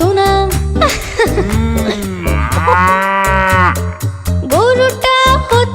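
A cow lets out a loud, close moo, then a long drawn-out bellow and another low call in quick succession, with nothing else over it.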